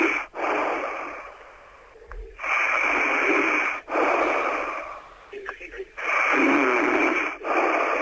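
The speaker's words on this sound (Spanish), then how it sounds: "Pois está roncando al lado do teléfono" Snoring comes over a telephone line as repeated long, harsh, nasal breaths in a steady rhythm, thin and band-limited with faint line noise between them.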